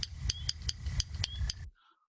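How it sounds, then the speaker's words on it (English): Yellow rail giving a clicking call like two pebbles tapped together, a regular series of about eight sharp, close ticks over a low background rumble in a spring marsh gulch, ending abruptly. "I think this is a yellow rail. Sounds like you taking 2 pebbles and tapping them together."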